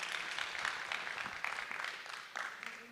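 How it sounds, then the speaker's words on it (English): Conference audience at the National Conference on the Constitution giving a round of applause, a steady hiss of many hands clapping at moderate volume that eases slightly toward the end. "I think they deserve another round of applause"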